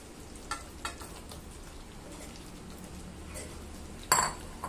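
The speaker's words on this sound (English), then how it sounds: "So at this stage we can add the boiled potatoes" Boiled potatoes dropped into a pan of curd gravy, a few soft clinks and splats over a quiet background sizzle, ending in one sharper metallic clatter near the end.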